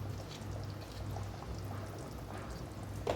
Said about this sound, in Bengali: এবার আগে থেকে বানিয়ে রাখা যে সর্ষে পোস্তর ব্যাটারটা আমি বানিয়ে রেখেছিলাম সেটাকে আমি এর মধ্যে দিয়ে দেবো